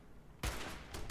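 Turret gunfire in Fallout 4: after a quiet moment, a sudden burst of automatic shots erupts and continues as rapid, moderately loud fire, with a second burst near the end.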